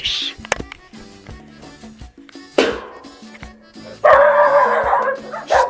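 A dog barks and yips several times in short loud bursts, close by, with whimpering between barks and some background noise.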